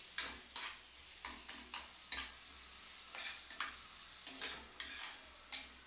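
Eggs frying in a pan for an egg chili curry, with a spatula scraping and stirring in about a dozen regular strokes over a soft, quiet sizzle.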